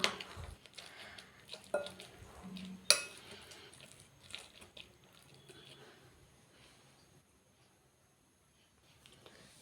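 Bonda batter mixed with a spoon after hot oil is added: close, irregular scraping and clinking of a spoon against a bowl, louder at first with a few sharp taps, then thinning to faint, sparse touches.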